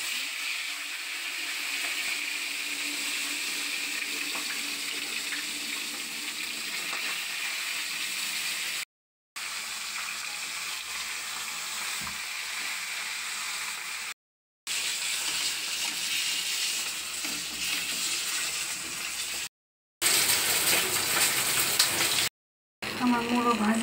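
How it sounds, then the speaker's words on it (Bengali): Fish head frying in hot oil in a wok: a steady, fairly loud broadband sizzle, interrupted by several short silent cuts and growing harsher and more spattery toward the end. "আমি কড়াতে তেল দিয়ে দিয়েছি, তেলটা এসে গেছে। এখানে মাছটাকে ছেড়ে"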